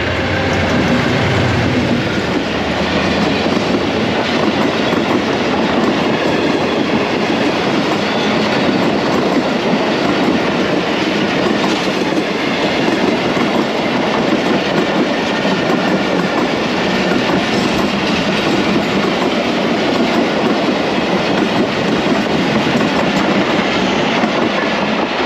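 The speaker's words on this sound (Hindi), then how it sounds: "तो जनाब ये है 9 up अल्लामा इकबाल एक्सप्रेस AG30 की लीड के साथ।" Allama Iqbal Express, a Pakistan Railways passenger train led by an AG30 locomotive, rolls past close by for the whole stretch with a steady, loud rumble and clickety-clack of coaches over rail joints, with no talking.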